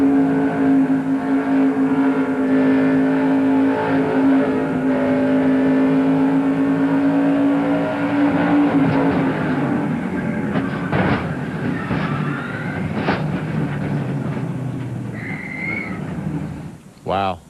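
Onboard engine of Jeff Purvis's 1998 NASCAR Busch Series race car, a loud sustained drone with a steady pitch that shifts and roughens toward the end, with a brief sharp burst at the close.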